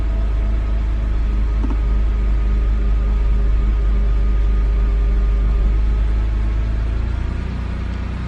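A BMW E91 wagon engine idles nearby as a loud steady rumble, the revs rising and then easing off toward the end, with no talking.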